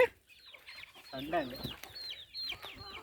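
Several chickens cluck and squawk close by in overlapping bursts, with a brief voice underneath.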